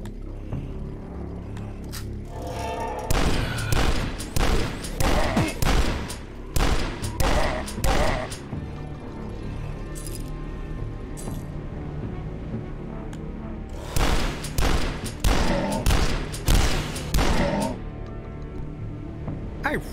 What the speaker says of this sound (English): I really like these shotguns.